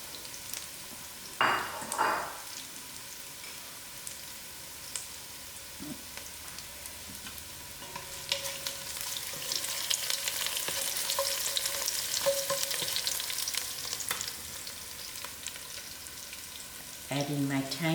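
A cinnamon stick, bay leaf and fennel seeds fry in a pot with onions for a mutton biryani, a hissing sizzle that swells louder partway through, with a few clattering knocks and brief stirring sounds.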